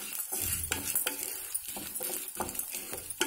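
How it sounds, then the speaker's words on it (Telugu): Chana dal, coriander seeds, urad dal, fenugreek, garlic, mustard and cumin dry-roasting in a pan for chutney, with soft rattling and scraping as a spoon stirs them in repeated strokes, quiet and close. "శనగపప్పు, ధనియాలు, మినపప్పు, మెంతులు, వెల్లుల్లి, ఆవాలు, జీలకర్ర ఇలాగ వేయించుకుందాం"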